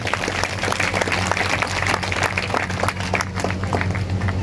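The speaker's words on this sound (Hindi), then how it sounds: "सभी जोर से तालियां बजाएंगे।" Loud, continuous applause from a congregation at a Sunday church service, dense rapid clapping sustained evenly for several seconds.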